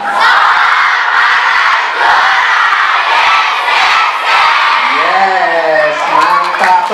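Junior high students from SMP 268 Jakarta loudly shouting a group yel-yel chant in unison, a sustained dense crowd of young voices, with rising and falling sung phrases toward the end.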